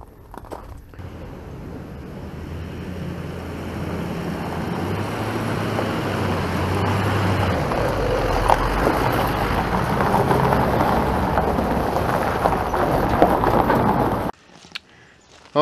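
Vehicle towing a homemade equipment trailer on a test run, heard as a steady rumbling drive with road and wind noise that builds over about fourteen seconds and then cuts off abruptly.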